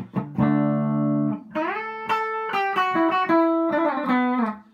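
Electric guitar fitted with Mad Hatter Super Shredder pickups plays a clean tone: one long sustained chord, then a run of ringing single notes and short chords, loud and up front with no talk.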